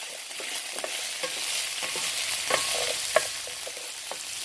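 Garlic fries in a pan while being stirred, prepared for braised beef short ribs. A quiet, steady sizzle is broken by scattered light clicks and scrapes of stirring, with no talking.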